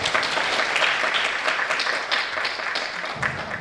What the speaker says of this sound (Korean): 그럼 박수로 상무님 모시도록 하겠습니다